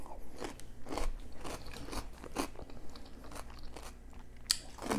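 Regular cucumbers from H Mart bitten and chewed up close during a mukbang eating show, giving a run of sharp, moist crunches in an uneven rhythm, loud and close to the mouth.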